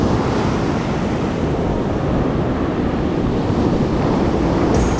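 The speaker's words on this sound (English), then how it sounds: "weather changing so fast and it's getting worse and waves getting more rough" Rough ocean surf breaks at a beach gutter in worsening weather, a loud, continuous roar of crashing waves with wind buffeting the microphone throughout, and no voices.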